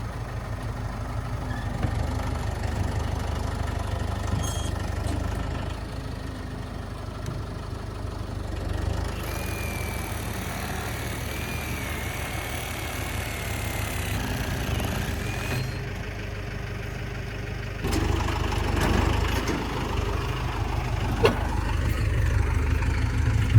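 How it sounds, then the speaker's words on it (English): A tractor engine idles steadily nearby at a greenhouse building site, a low continuous rumble with slight shifts in tone over about twenty seconds, no voices. "Maverick, what do you think about this tractor situation?"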